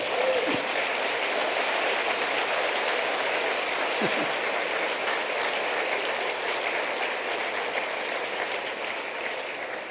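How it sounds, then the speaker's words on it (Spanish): Congregation at a Spanish-language church service applauding in praise, a dense, steady wash of clapping held at even loudness for the whole stretch, with a couple of faint voices rising above it. "Dale un aplauso al Señor por su palabra"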